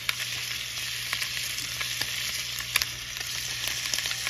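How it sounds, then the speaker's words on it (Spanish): Beef liver fries with chopped onion and garlic in a pan, giving a steady, close, crackling sizzle with small pops and occasional stirring clicks, with no talking. "ya le voy a poner la cebolla y el ajo"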